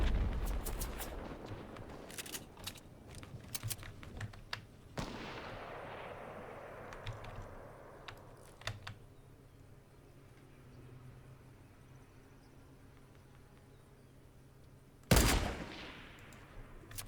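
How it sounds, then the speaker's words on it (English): Sniper shots ring out in a Fortnite match, several sharp cracks with long echoing tails over a low rumbling background, one loud close shot near the end. "Someone's getting in a sniper fight."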